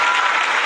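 A short burst of dense applause, many hands clapping steadily.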